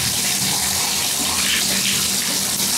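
Steady tap water runs and splashes into a tub as bare feet are wetted before scrubbing with a pumice stone and soap, a close, loud, continuous gush with no talking.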